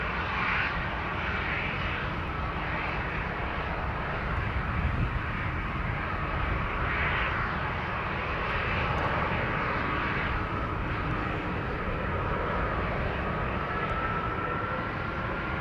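Delta Airlines Airbus A330neo jet departing Amsterdam Schiphol, a steady, loud broadband engine roar with a rising whine, sustained throughout at close range with no talking.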